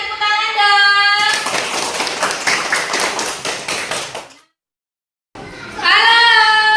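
Children in a classroom clap their hands together in a fast, rhythmic burst of sharp slaps that stops abruptly into silence, with young voices chanting before and after.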